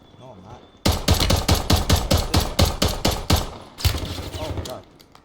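Rapid pistol fire in the Warzone video game, a quick burst of about a dozen sharp, evenly spaced shots, loud and close, followed by a brief rougher rattle before fading out.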